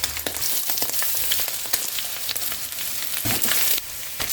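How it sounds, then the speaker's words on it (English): Eggs, bacon, onion and vegetables for egg fried rice fry in a hot pan with a loud, dense crackling sizzle, broken by quick scraping and tossing sounds, close up and without talk. "Fry eggs, bacon, add the onion and the other vegetables, then the rice."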